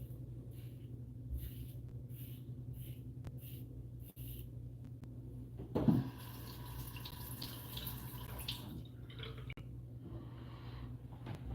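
Water runs steadily from a bathroom faucet during a morning shave, a constant low rush filling the whole stretch with a brief louder splash midway.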